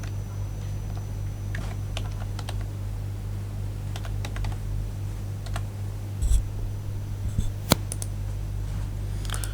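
Username typed on a keyboard, sparse soft key taps over a steady low hum, with a few louder clicks near the end.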